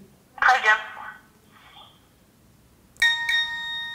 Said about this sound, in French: le téléphone émet cette sonnerie pour localiser la personne dans les derniers mètres